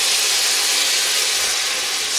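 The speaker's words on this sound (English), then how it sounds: "start it steaming, begin to deglaze the pan at the bottom" Water poured into a hot frying pan to deglaze it after searing beef, a steady loud steaming hiss with no break, alone.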